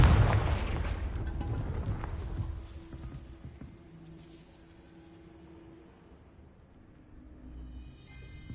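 A Confringo blasting spell from Hogwarts Legacy detonates with a loud, close boom at the start. It then decays into a long, fading rumble, leaving a quiet hum and faint game ambience.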